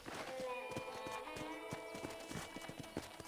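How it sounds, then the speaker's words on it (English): Horse hooves clip-clopping at a walk in Red Dead Redemption, a steady rhythm of crisp close hoof knocks with a brief whinny, while a character talks over the steps. "I picked out a fine horse for you."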